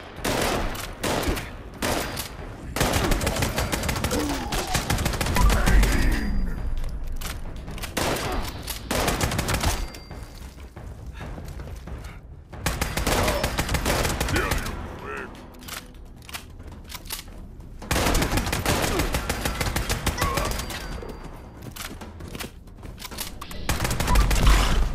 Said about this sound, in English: the combat rifle, it's just an all-around solid gun